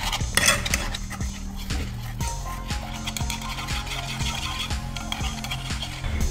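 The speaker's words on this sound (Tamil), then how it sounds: "இப்போ நான் இதை ஸ்டவ்வில் வைக்கலை, கீழே வச்சு தான் கலர்றேன்." A spoon scrapes and clinks steadily inside a pot as a besan flour mixture for halwa is stirred off the stove, giving rhythmic metallic taps and a continuous close mixing noise with no speech.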